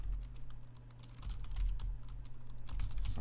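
A shell command typed on a computer keyboard of a Raspberry Pi running Raspbian, with a steady run of quick, close key clicks continuing throughout over a low hum.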